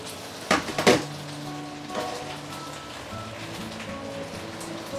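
Banana-leaf grilled fish is moved onto a serving plate: a couple of sharp clatters of utensils against a pan or plate up close, then quiet low kitchen rustling.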